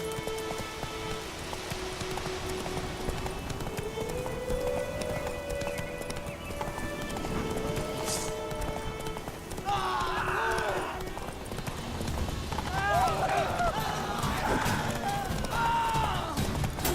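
Horse hooves clip-clopping at a gallop in The Witcher 3 across White Orchard, a steady rhythmic beat carried through the whole stretch with ambient game sound, occasional whinny-like tones and brief voices in the background.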